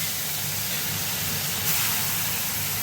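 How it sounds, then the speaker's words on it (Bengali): Chitol fish rubbed with salt and turmeric frying in hot oil, a steady, loud, close sizzling hiss that barely changes throughout, with no talk. "তেলে ফ্রাই করছি"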